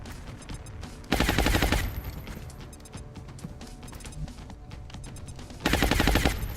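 Suppressive gunfire in the video game XCOM Long War: two loud, rapid automatic bursts, one early and one near the end, over a busy game soundscape.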